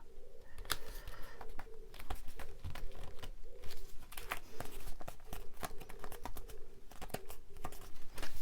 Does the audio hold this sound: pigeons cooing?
yes